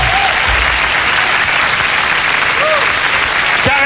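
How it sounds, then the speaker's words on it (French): A concert audience at a televised New Year's show applauds loudly and steadily as a band finishes a song, a dense wall of clapping with a host's voice briefly heard over it. "applaudissez encore très fort."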